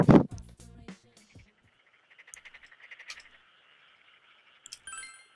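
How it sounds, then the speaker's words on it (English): A pet frog croaks in a room in the video game Persona 4, a series of short rhythmic croaks following a loud opening thump, with faint chimes at the end. "You got a pet frog in your room?"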